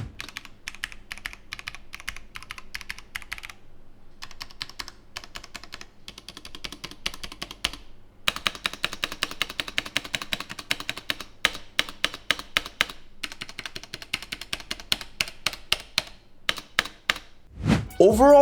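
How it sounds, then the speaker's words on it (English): Fast, steady typing on a Corsair K70 Pro Mini Wireless mechanical keyboard with linear Cherry switches, dense crisp clacks that grow louder and more spaced midway, ending in a brief rustle. "Here's a typing test for your reference."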